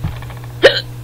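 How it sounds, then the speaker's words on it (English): A person gives one sharp, loud hiccup, a sudden voiced gulp close to the microphone over a steady low hum. "Stupid hiccups."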